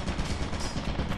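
A turret in Lethal Company fires a dense, continuous burst of rapid gunfire, loud and close, rattling without pause for over a second.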